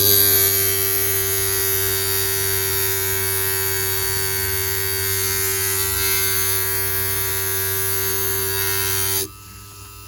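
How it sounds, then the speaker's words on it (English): An electric grinder cuts the edge off a 1 cm ceramic tile, giving a steady, loud buzzing whine that holds nearly constant for about nine seconds and then cuts out, close up with no talking. "I'm just going to grind that little edge away."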